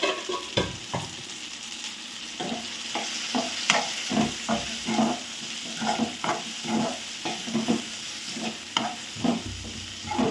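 Tomato and onion fry in a pan for tomato chutney, with a steady sizzle under repeated scraping stirs of a spoon, close and fairly loud, with no voices.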